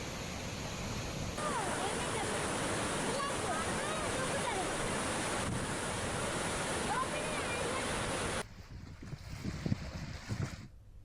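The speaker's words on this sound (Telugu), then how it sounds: "ప్రాజెక్టు 41 గేట్లు ఎత్తి నీటిని దిగువకు విడుదల చేస్తున్నారు" Flood water roaring through the 41 raised gates of the Jurala project, a steady dense rush of heavy flow that drops away near the end, leaving scattered fainter sounds.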